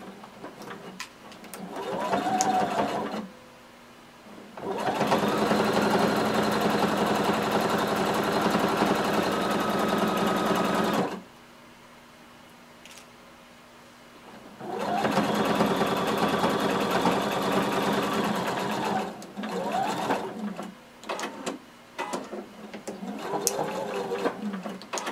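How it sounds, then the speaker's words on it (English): A sewing machine stitches a seam with a 5/8-inch allowance on a garment from a sewing pattern, running in two long, steady, loud bursts separated by a quiet pause, with shorter runs at the start and end. "sew your way up using 5/8 of an inch seam allowance"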